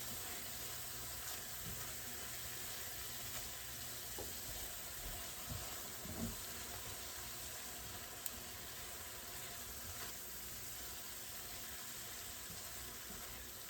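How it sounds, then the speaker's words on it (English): Chopped onions sauté in a pan with a soft, steady sizzle at low level throughout, a few faint clinks and kitchen sounds scattered over it. "I just saute these until they're translucent"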